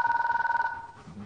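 A bell telephone trills in a rapid fluttering ring for under a second and then stops, leaving quiet room sound behind.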